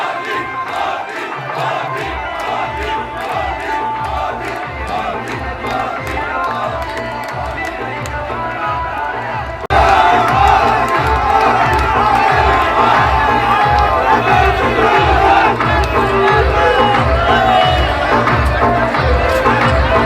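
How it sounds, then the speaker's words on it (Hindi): A large crowd roars and cheers continuously at a village political campaign rally, with rhythmic drumming or chanting pulses underneath; the noise swells noticeably louder halfway through and stays dense and close. "हर गांव ढाणी में प्रेमचंद की जनसंपर्क रैलियों में भारी भीड़ जुटती रही"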